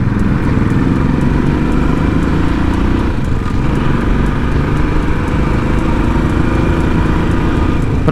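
Motorcycles ride uphill on the Kolli Hills road in a steady, continuous engine drone with a dense low-mid rumble, loud and close, with no voices over it.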